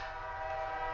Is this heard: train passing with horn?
yes